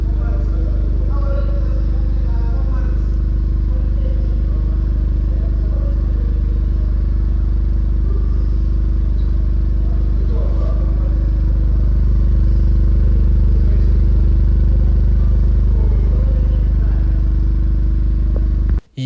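Steady, loud, low engine drone from the exhaust of a 2025 Toyota Corolla GR Sport with a 1.6-liter turbo petrol engine, heard close up as a continuous idle-like rumble that cuts off abruptly at the end.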